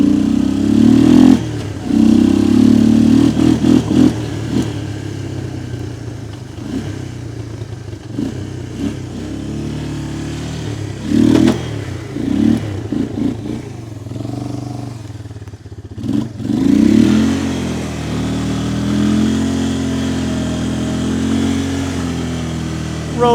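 Honda Fourtrax 300 ATV engine revving high and unsteady, with repeated throttle blips and surges over a continuous close, loud idle, on a slick road.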